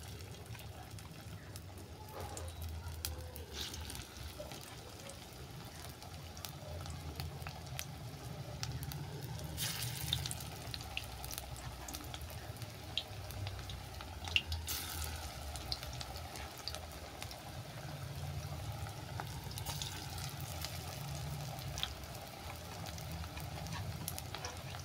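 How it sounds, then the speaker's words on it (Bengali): Water lily (shapla) pakoras fry in hot oil with a soft, continuous sizzle and crackle that rises and ebbs gently throughout, quiet and close, with no talk. "তেল গরম হয়ে গেছে, পকোড়াগুলো আমি ভেজে নিচ্ছি।"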